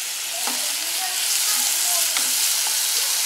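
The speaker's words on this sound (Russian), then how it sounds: "Сейчас вот я их обжарю слегка на масле." Sliced zucchini fries in oil in a pan, giving a steady, close, dense hiss and crackle with a few faint clinks from stirring.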